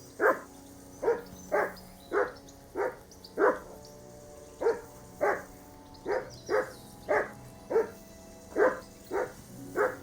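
Dog barking in the medieval video game Kingdom Come: Deliverance 2, a steady run of about fifteen sharp, evenly spaced barks, fairly close and clear over quiet background hum.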